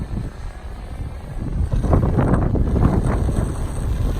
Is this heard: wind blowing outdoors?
yes